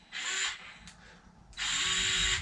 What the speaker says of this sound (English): A little screwdriver. This got like a gyro in it. Put it on the screw, you hit the button